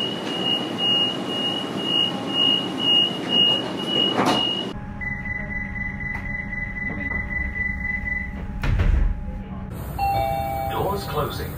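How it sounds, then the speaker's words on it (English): Door-closing chime on an Australian suburban train: a repeated tone plays near the start under cabin rumble, then electronic tones and beeps follow as the doors shut, with an automated voice announcement running throughout. "Doors closing. Please stand clear."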